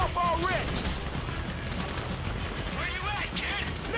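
Gunfire in the video game GTA 5: dense, continuous bursts of shots and blasts fill the scene, with shouting voices over the top.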